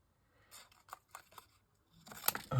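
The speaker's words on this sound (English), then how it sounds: "I'll cut this down a bit to make it a little bit easier to go through the machine" Scissors cut paper down to size for a die-cutting machine: a quick run of crisp snips, then a louder rustle of paper being handled, close and quiet.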